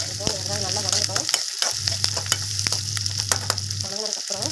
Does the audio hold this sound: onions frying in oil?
yes